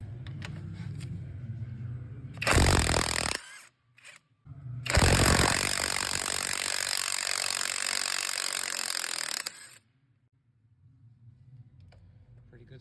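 Cordless impact wrench pulling starter bolts off a skid steer: two loud bursts of rapid hammering, a short one and then a longer sustained run of several seconds, with quieter workshop background before and after.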